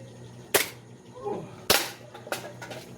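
A gas-powered 1911-style airsoft pistol fires at a can: three sharp, loud cracks spaced about a second apart, each with a short ringing tail, over a low background hum.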